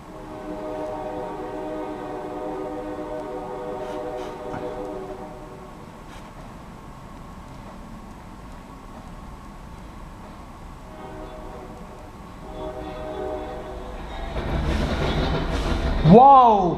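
A Norfolk Southern northbound intermodal train rolls past in Marion, Ohio, with a steady rumble of rail cars that builds louder toward the end, where a horn sounds up close.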